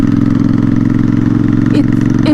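Royal Enfield Interceptor 650 custom motorcycle engine running close by at a steady, loud idle with a deep thrumming pulse, and short rev blips near the end.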